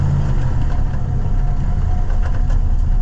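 Old grain truck engine running, a loud, steady low-geared rumble with a rough knocking texture throughout, close by and with no talk.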